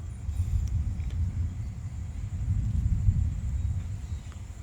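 A storm's strong wind buffets a tent, producing a continuous deep rumbling roar that surges and eases, with faint higher rustling above it and no talking.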